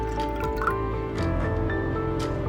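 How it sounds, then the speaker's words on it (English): Vinegar poured into a bowl of barbecue sauce makes a brief, close liquid trickle and dripping splash, soft and continuous for a couple of seconds. "Also pour in vinegar"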